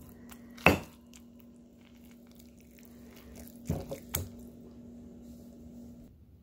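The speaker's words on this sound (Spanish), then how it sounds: "Los voy a ir agregando y los voy a ir moliendo." Fresh tomatoes and tomatillos with chile pikin crushed in a stone molcajete for salsa roja: three close, soft, wet squishing thumps, one alone and then a pair, separated by near-quiet with a faint hum.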